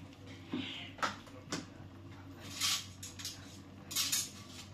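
Dishes and cutlery being washed in a home kitchen, giving scattered light clinks and clatters over a steady background hum, with a few louder knocks spread across the stretch.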